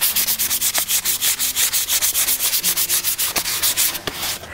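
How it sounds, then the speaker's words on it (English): Steady back-and-forth sanding of shellac-coated wood with 400 grit sandpaper, loud and close, with rapid even rubbing strokes throughout and no talking. "I'm going to take some 400 grit sandpaper and sand down the grain."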